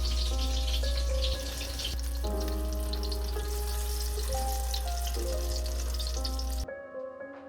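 Apple fritter dough frying in hot oil, a dense continuous sizzle and crackle heard close, with sustained tonal background music running underneath until it cuts off near the end.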